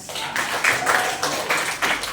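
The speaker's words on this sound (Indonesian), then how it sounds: "Berikan tepuk tangan." Applause in a classroom during a teaching session, a run of clapping from a group of students swelling in uneven bursts across the whole stretch, fairly close and moderately loud, with no talk over it.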